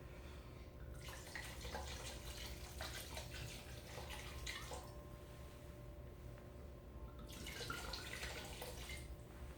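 Half a bottle of wine poured into a cooking pot, heard as faint gurgling splashes in two separate pours with a quiet pause between them.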